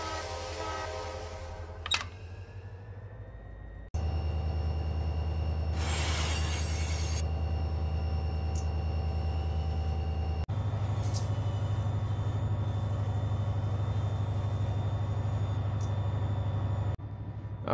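SD40 diesel locomotives haul a freight train in Run8 Train Simulator, with a steady low engine drone and rumbling wagons, bursts of high wheel squeal and a sharp clank early on, running continuously without talk.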